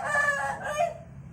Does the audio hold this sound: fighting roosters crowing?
yes